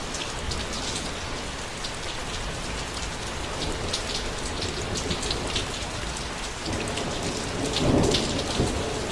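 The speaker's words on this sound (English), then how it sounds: "The rain was not just falling, it was screaming." Heavy rain pours down in a dense, unbroken hiss, and a low roll of thunder swells near the end. No one speaks.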